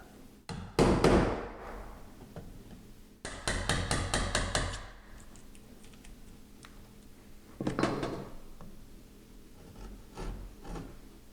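A hammer drives a chisel into wooden framing to fit a pocket door, in three separate bursts of sharp, rapid strikes with quiet pauses between, close and fairly loud.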